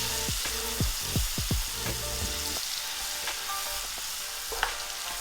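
Onions and garlic sizzle in a very hot pan as a spatula stirs them, several quick scraping strokes early on, then a steady close frying hiss.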